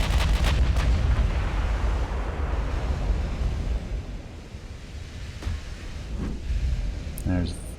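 Heavy naval gunfire and a shell hit from battleships and cruisers in the warship game Ultimate Admiral: Dreadnoughts, a loud continuous rumble with booming blasts and wind-like wash throughout, a few sharper impacts near the end.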